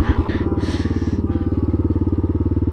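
A Suzuki DR350 dual sport motorcycle on a cold, cloudy trail runs close by with a rapid, even thumping single-cylinder putter and a short throttle blip at the start.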